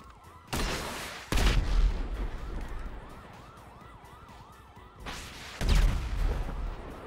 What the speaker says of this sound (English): Send them an RPG shot.